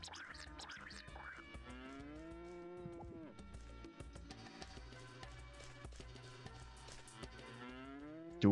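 Cows in the farming game Harvest Moon: Magical Melody moo several times in long, drawn-out calls, one after another, clear and close over a quiet background.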